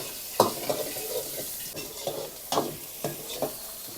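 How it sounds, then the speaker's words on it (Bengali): Chili chicken being stir-fried in a pan at a street food stall, with repeated scraping stirs roughly every half second over a steady background sizzle of hot oil. "এই হচ্ছে চিলি চিকেন প্রিপারেশন শুরু হয়ে গেছে"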